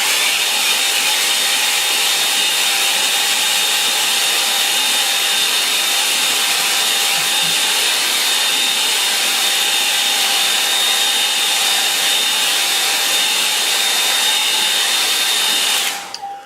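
Steady, loud hair dryer blowing continuously on a watercolour painting of rocks, a constant whooshing hum close to the listener that cuts off abruptly at the very end.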